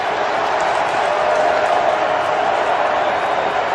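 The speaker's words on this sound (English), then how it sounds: "here comes the crowd" A football stadium crowd at a Cleveland Browns game gives off a loud, steady roar that holds at an even level throughout, with no clear breaks.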